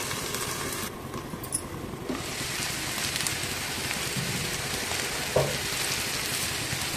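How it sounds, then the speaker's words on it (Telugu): Food frying in a pan, a steady, fairly quiet hiss and crackle of sizzling oil running throughout with a few faint clinks, no talking. "బాగా వేయించుకుందాం."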